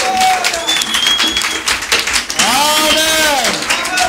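A church congregation claps and cheers loudly at a French-speaking worship service, dense applause running throughout with voices rising over it and a swelling shout of cheering near the end.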